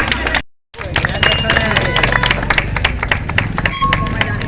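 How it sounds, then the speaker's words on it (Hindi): Clapping and cheering from the crowd at a temple Krishna Janmashtami event as an award is presented, loud and continuous after a brief break, with chatter mixed in. "जोरदार तालियां।"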